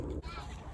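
Ducks in a pen give a short honking, nasal call, brief and fairly close under a soft background.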